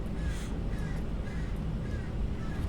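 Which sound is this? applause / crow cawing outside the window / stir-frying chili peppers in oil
crow cawing outside the window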